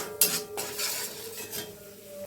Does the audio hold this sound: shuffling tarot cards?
no